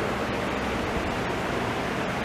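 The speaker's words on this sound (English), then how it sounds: "this may be the same rainstorm that hit Arkansas" A heavy rainstorm pours down in Virginia with a dense, steady roar of rain that stays loud and even throughout, with no voices.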